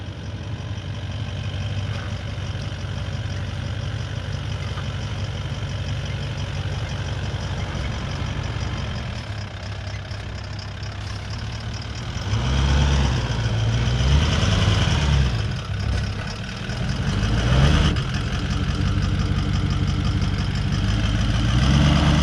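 A 4WD engine idles steadily while the vehicle is hung up on a washed-out pipeline track, then revs harder in rough surges for several seconds before easing back, loud and close with no one talking.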